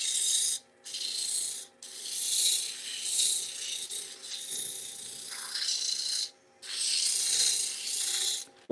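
A sander runs in long rasping strokes across a workpiece, loud and close, with brief pauses between passes and no talking.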